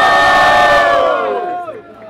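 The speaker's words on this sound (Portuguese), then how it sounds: "Só quem gostou do meu mano Johnny, faz barulho aí, bota fogo" Crowd at a Brazilian state rap battle semifinal cheering and shouting loudly for about two seconds, a dense close roar that fades out at the end.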